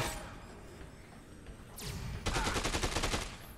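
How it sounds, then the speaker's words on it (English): Gunfire in the video game Dead Rising 2: Case West, a whoosh then a dense rapid burst of automatic shots in the last second and a half, loud over a noisy game background. "Stop shooting me, please."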